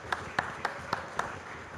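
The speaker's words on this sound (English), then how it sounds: "let's give a big round of applause to Simon, Jelly, Mandy, and Ben" Applause from a church congregation welcoming athletes with medals to the front, heard as five faint, evenly spaced claps over a quiet room.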